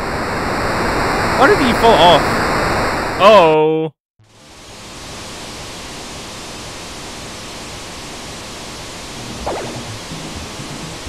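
After some brief talk and a sudden cutoff, a loud, steady roar of rushing water in Super Mario RPG: Legend of the Seven Stars fills the rest of the clip without a break.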